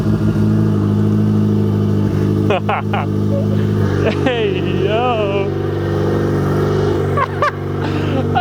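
A car engine fitted with a custom turbo kit runs at a steady, droning idle close by, with a few brief revs and clanks, while people talk and exclaim over it.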